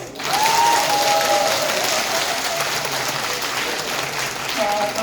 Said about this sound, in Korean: 여러분들 아주 멋지시고 훌륭합니다. 박수!